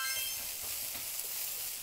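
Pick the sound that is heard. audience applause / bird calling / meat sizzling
meat sizzling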